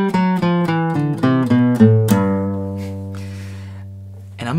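A Bebop Dominant scale, a Mixolydian mode with an added natural seventh, runs note by note on guitar, ending on a sustained low chord that rings out and fades, with a faint final pluck.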